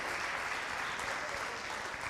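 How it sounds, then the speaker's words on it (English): Audience at a suffrage centennial celebration applauds a person being thanked, a steady dense patter of clapping at moderate distance without pause. "we need to applaud for you"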